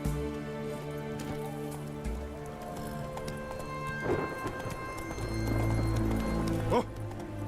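Roach the horse's hooves clip-clop steadily in The Witcher 3 at Dixon's, heard alongside sustained in-game music, with a heavier thud-like burst near the end.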